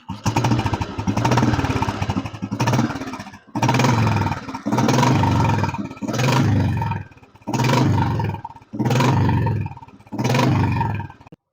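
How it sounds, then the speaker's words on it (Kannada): An old-model Royal Enfield Bullet 350 motorcycle engine and silencer exhaust, a loud, close thumping roar revved repeatedly in about seven bursts with short pauses between, alone without talk. "ಸೈಲೆನ್ಸರ್ ನ ಒಂದು ಸೌಂಡ್ ಕೇಳಿಸ್ಕೊಂಡ್ರವ, ಮೆಲೋಡಿ ಸೌಂಡ್ ಸಕಲಾಗಿದೆ"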